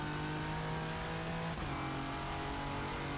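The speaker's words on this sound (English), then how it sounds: "Yeah, the underpowered Porsche." Porsche race car engine in the racing simulator rFactor 2 at Le Mans: a steady, droning high-revving engine note with a brief gear-shift dip midway, held close and continuous without talk.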